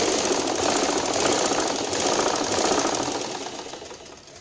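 A sewing machine runs in a steady continuous whir, stitching along the edge of salwar fabric, close up, then tapering slightly toward the end.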